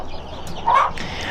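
Hen clucking once, a short nasal call rising briefly over low farmyard background noise, close by and moderately loud.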